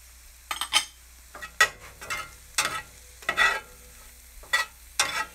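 Tempeh sizzles and fries in a seasoned pan while a utensil stirs it in repeated scraping bursts, each scrape rising above a low, steady frying hiss, close and clear with no talk.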